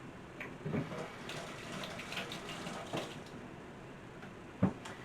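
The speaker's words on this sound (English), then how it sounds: "Let me wash my finger again." A finger being washed under a running tap: a steady, moderately quiet stream of water with a couple of soft splashes and bumps as the hand moves through it.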